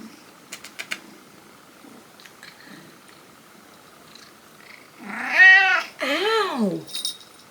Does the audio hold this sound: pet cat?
yes